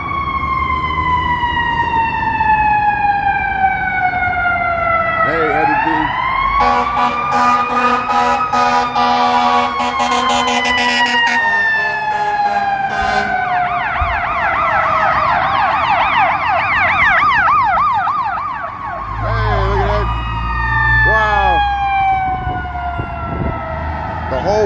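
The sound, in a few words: fire engine sirens on a Chicago street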